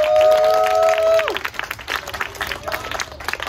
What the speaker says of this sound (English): Can I have a round of applause for all the wonderful legs?